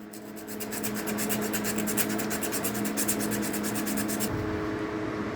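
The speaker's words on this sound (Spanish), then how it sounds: "Vamos a darle un poco de lija para limpiar esto aquí" Steady rhythmic rasping of sandpaper scrubbing back and forth on metal, close and continuous, stopping abruptly near the end.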